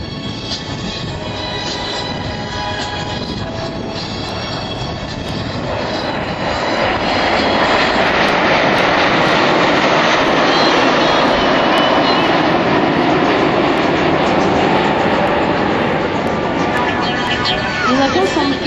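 Patrouille de France Alpha Jet display aircraft pass overhead at an air show at Saint-Brevin-les-Pins, a loud broad jet roar that swells midway and holds steady, with a voice talking faintly beneath.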